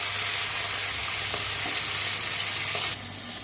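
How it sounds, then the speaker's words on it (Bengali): Black cumin and green chilli tempering sizzling in hot oil, a steady loud crackling hiss throughout with a few faint clicks, left in the pan after frying fish. "কালো জিরে কাঁচা লঙ্কা ফোড়ন দিয়েছি"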